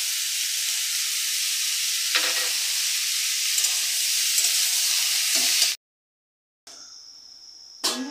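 Bottle gourd with green chillies fries in a hot pan, a steady loud sizzle with stirring scrapes, cut off briefly before the frying hiss returns.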